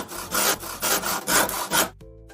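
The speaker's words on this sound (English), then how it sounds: "This is a handsaw. Cuts wood or other soft materials." A handsaw cuts through wood in about five steady back-and-forth strokes, close and fairly loud, each a rasping scrape, before the sawing stops and a faint ringing tone is left.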